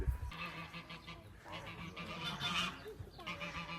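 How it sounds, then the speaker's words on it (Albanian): Ducks at a hippodrome honk and quack in a scattered series of nasal calls, some overlapping and fairly close, over quiet outdoor background noise. "Disa rosa."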